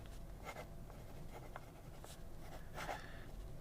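Fine-nib Moonman fountain pen scratching across paper in short, soft strokes, faint and close, with a steady low background hum and no talk.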